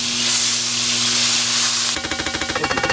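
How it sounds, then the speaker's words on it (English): Thick-cut, naturally hardwood-smoked bacon sizzles steadily in a pan, a loud, continuous hiss that shifts partway through into a more crackly, popping fry. "Sizzling."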